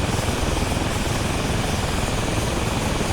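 An A-29B turboprop engine idles steadily after a cold start in a flight simulator game, a continuous loud broadband whine and roar with no change in pitch.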